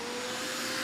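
Pet grooming vacuum clipper set running steadily on its middle suction setting, a close, continuous whir with a faint tonal hum throughout.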